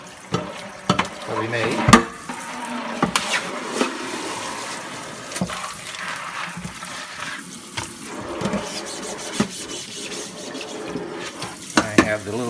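Water from a sink tap running and splashing while a silkscreen is washed clean of water-soluble ink, a steady close stream with irregular splashes and clatter, and a voice speaking briefly over it.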